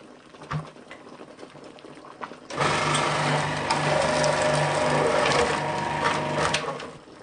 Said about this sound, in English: And boiling away. Almost done.